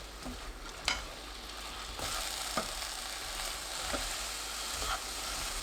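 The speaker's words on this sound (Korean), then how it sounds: "잔멸치, 미림 2큰술, 조청 2큰술 넣고 1분 볶아주세요." Green chilies and small anchovies stir-fry in a pan with mirin and grain syrup over low heat. A soft, steady sizzle runs throughout, broken by a few light scrapes from stirring.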